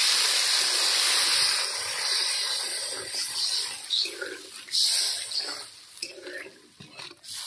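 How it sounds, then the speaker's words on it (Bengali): Water is poured into a cooking pot holding potatoes for an aloo chop curry, making a loud close hissing rush that fades into bubbling and light clinks of the pot. "বন্ধুরা, এবার আমি এর মধ্যে জল দিয়ে দিলাম।"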